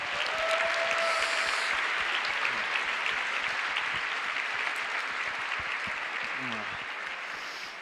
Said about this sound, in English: let's give a round of applause for our fam med docs